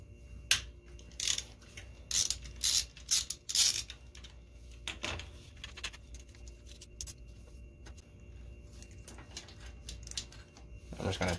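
Metallic clinks and rattles from removing the brake light switch bracket on a Yamaha Virago 1100 motorcycle, several close, clustered bursts followed by quieter handling, with a voice speaking at times.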